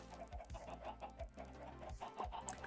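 Chickens in the Minecraft video game, clucking in a quick rhythmic series of short, close, clear clucks over a few seconds, with no talking.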